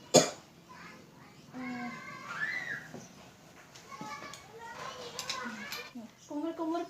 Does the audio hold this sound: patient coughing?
yes